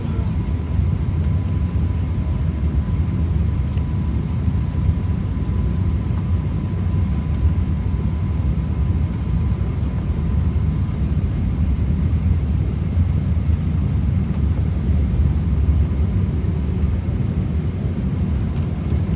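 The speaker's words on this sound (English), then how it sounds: "enjoy this tail camera takeoff" Steady loud low rumble of an Emirates Airbus A380 during takeoff, heard inside the economy cabin, a constant deep engine and airframe roar with a faint hum running underneath throughout.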